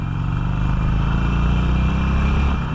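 A Harley-Davidson Iron 883 motorcycle accelerating in second gear, its engine giving a steady, loud, buzzy drone that holds throughout without a break.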